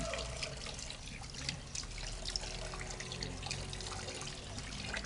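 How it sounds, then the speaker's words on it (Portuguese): Tap water pours and trickles steadily into a baby's small paddling pool, a continuous close splashing with no voices over it. "Ela acha engraçado essa água caindo"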